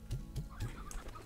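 Chickens in the video game Slime Rancher give a few soft, low clucks in quick succession, quiet and close, with no talk over them.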